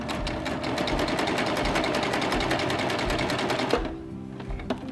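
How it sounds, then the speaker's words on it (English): An air-threading serger stitching fabric, a fast rapid-fire mechanical whir running continuously and close for several seconds before stopping abruptly, leaving a few faint clicks. "Now when I get close to the bottom, I wanna serge 1 stitch off the edge, okay?"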